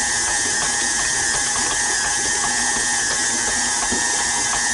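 A KitchenAid Artisan stand mixer kneads hot dog bun dough at raised speed, giving a loud, steady mechanical whir with a faint rhythmic ticking of the gears throughout.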